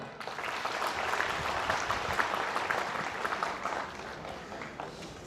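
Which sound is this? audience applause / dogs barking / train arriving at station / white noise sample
audience applause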